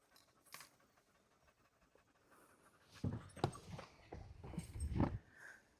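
A dog pants in quick, breathy bursts close by, faint at first and growing louder with rhythmic huffs toward the end.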